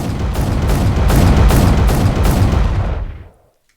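A huge, roaring explosion from a character's leaping attack in the video game AOPG, with crackling blasts bursting loud and sustained for about three seconds, then quickly fading to silence.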